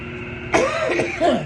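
A sudden throaty cough bursts out after a moment of quiet while walking by a river, followed by a second rougher hack, close and loud.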